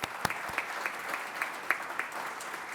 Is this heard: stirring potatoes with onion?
no